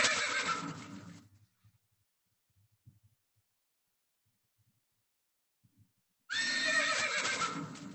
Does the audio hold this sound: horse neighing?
yes